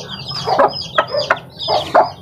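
Newly hatched white chicks give thin, high peeps mixed with lower clucking in a quick, irregular series, close and fairly loud.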